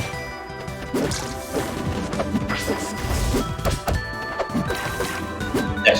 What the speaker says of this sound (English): catching that teleport with a well-charged smash attack